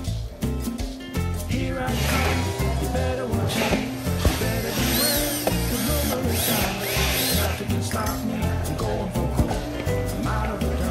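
Power drill driving screws to join a long middle board to the lower board of a Sanyang 108124 wardrobe cabinet during assembly, running steadily and close up for about eleven seconds under a bed of other sound.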